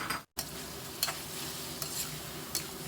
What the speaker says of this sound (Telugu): మనకి మునక్కాయ మంచిగా ఆయిల్లో ఫ్రై అయింది. ఇప్పుడు టమాటా ముక్కల్ని కూడా వేసేద్దాము.